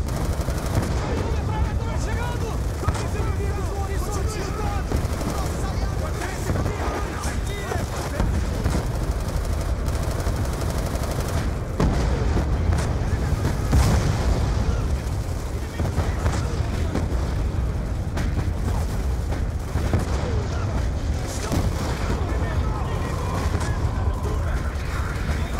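Heavy gunfire and explosive booms against an armored gun truck in the shooter game Call of Duty Black Ops II, with sustained machine-gun bursts and blasts over game music, and a voice speaking at times.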